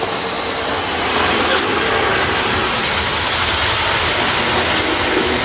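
A Lionel postwar model train runs steadily on a home layout, giving a continuous close mechanical whir and rattling clatter of motor, gears and wheels on track, with no pauses.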